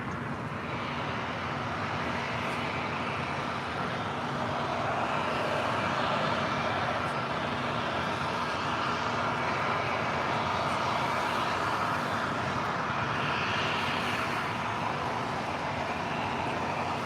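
A WestJet airliner takes off from runway 25 right at LAX, its engines producing a loud, steady broadband roar that holds throughout without a break.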